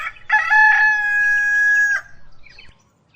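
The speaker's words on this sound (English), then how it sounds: "Rooster." A rooster crows once, close and loud, in a long sustained cock-a-doodle-doo lasting under two seconds, then fades into quiet.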